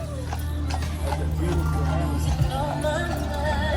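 Horse sounds, hooves clopping and a faint whinny, against a background of murmuring voices.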